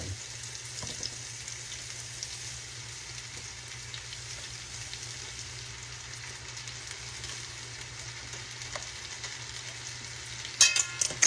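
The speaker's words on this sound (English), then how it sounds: "We're frying them up." Steady, soft sizzling of portobello mushrooms frying in a pan, a continuous low crackle throughout with a few clinks near the end.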